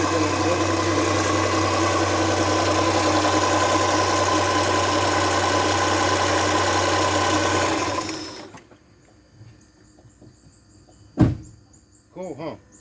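A 2003 Hyundai Santa Fe engine idles steadily after a timing repair, a loud close hum with a low drone for about eight seconds, then it cuts off, leaving quiet with a brief thump and faint voices.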